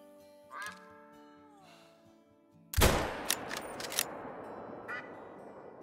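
A single loud rifle shot fired at a Cape buffalo 350 yards away cracks out midway and rolls into a lingering echo, after ducks quack nearby beforehand.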